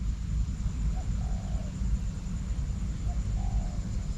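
A spotted dove, a trained cage bird out on a training session, gives two short, soft coos some distance away, separated by a pause, over a steady low background rumble.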